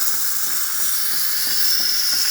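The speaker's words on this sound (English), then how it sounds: "the steamer is having a nice pressure, working the way it's supposed to. Nice steam" Steady, loud hiss of steam from the steamer wand of a Saeco Intelia coffee machine under good pressure, a continuous close jet with no break in the flow.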